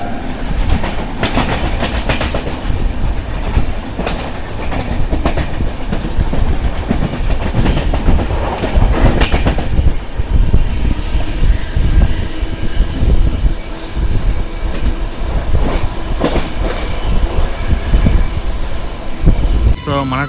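Inside a general coach of the Falaknuma SF Express, the train runs at speed with a loud, continuous rumble, rattling carriage noise and rhythmic clickety-clack from the wheels over the rails.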